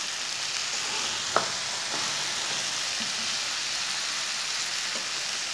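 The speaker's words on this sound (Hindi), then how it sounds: "अब 2 मिनट के लिए ऐसे ही थोड़ी सी तेज़ आंच पर इसे भून लेंगे।" Okra frying in a pan over high heat gives a steady, close sizzle that holds level throughout, with a couple of faint clinks partway through.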